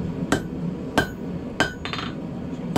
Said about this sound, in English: Now, I'm just going to use the edge of the anvil,